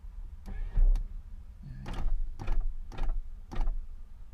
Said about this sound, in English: let me roll out the windows a little bit more.